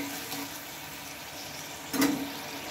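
A short splash of water is poured into a pan of spiced egg curry, one brief burst near the end over a quiet background hiss of the kitchen.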